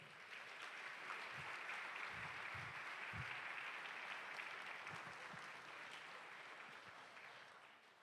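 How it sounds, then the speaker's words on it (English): An audience at a Junior Achievement Business Hall of Fame ceremony in New Orleans gives sustained applause, a dense, even wash of clapping throughout, with a few scattered louder claps and the sound easing slightly toward the end. "a big round of applause for the members of the Junior Achievement Business Hall of Fame"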